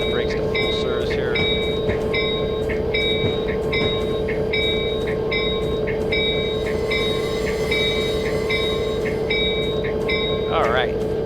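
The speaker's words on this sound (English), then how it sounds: "we'll go ahead and apply the brakes to full service here" An Amtrak F40PH train in Train Simulator brakes toward a stop, giving a steady rumble with sustained high wheel squeal and repeated ringing tones throughout, continuous and loud.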